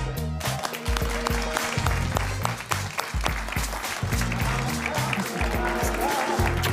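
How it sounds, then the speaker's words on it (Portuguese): Studio audience applauds to welcome Portuguese culture minister Graça Fonseca onto a comedy talk show, steady clapping over loud band music with horns and drums throughout. "Recebam com sentido de Estado e algumas palmas"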